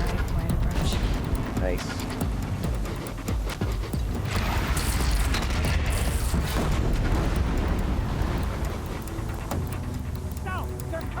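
Repeated cannon fire booms during the Battle of Meridian in the video game Horizon Zero Dawn, loud heavy blasts over dense battle noise, with someone talking throughout.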